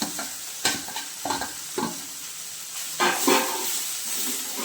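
Cluster beans stir-fried in a pan as coconut is added, with repeated scraping and tossing strokes over a steady hissing sizzle.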